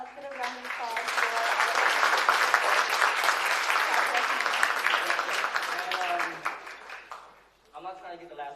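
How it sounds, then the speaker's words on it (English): An audience at a film festival Q&A applauds in a dense, steady burst of clapping that lasts several seconds, then fades as a voice starts to speak. "let's get a round of applause for"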